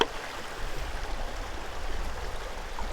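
Water running steadily through a shallow creek bed in a canyon, a continuous close rushing and burbling that holds an even level throughout with no voices.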